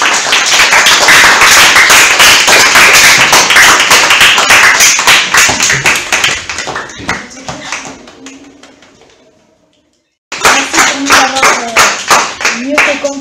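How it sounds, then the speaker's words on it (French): A classroom of students applauds a group of girls after their presentation: dense, lively clapping for several seconds that thins and fades into a brief silence, then bursts back up. "Les filles, on peut les applaudir."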